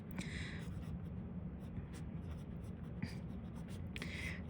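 A Lamy fountain pen with a fine nib writes on paper, giving soft, close scratchy strokes in a steady rhythm, with a few sharper flicks standing out over a low background hum.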